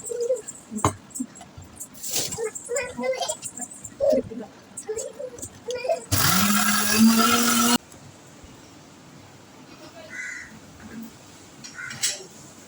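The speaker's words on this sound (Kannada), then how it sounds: "ಇದನ್ನಿತ್ತು ಮಿಕ್ಸಿ ಪಾಡ್ಗ ಗ್ರೈಂಡ್ ಮಾಡ್ತಾರೆ" A kitchen mixer grinder grinding garlic and cumin bursts on loud and steady for about two seconds partway through, between stretches of background noises and scattered sounds.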